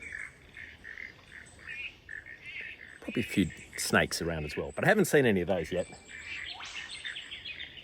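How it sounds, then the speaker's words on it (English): Birds chirp and frogs call steadily by a creek while someone talks over them in the middle. "It's just me and the frogs and the birds."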